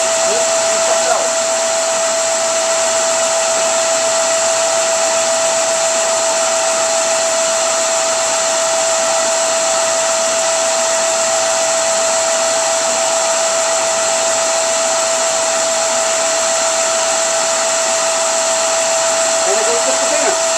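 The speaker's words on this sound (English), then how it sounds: "if you guys watch the hose, you'll see the oil being sucked out" Oil is drawn through a hose out of a 1996 Harley-Davidson Sportster 883 by a suction pump, giving a steady, loud, unbroken whirring hiss with a constant tone that runs for the full length with no speech.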